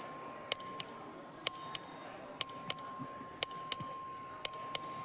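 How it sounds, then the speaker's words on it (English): In a legislative chamber, a clerk rings a voting bell in paired bright dings, five pairs at a steady pace, each ringing clearly and fading quickly against a quiet room. "The clerk will ring the bell."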